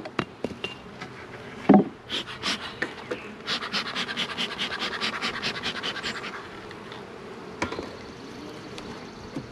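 Wooden frames being pried out of a single-deep beehive box in spring, a run of close, irregular scraping and cracking knocks, with faint buzzing of bees around.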